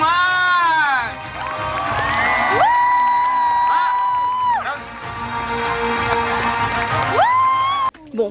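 An audience at an evening show during an August holiday in Ardèche cheers and shouts loudly, with children's voices rising in long gliding whoops over steady crowd noise and clapping, before the sound cuts off abruptly near the end.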